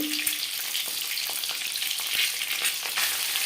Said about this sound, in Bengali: লবণ হলুদ দিয়ে ডিম ভেজে নিই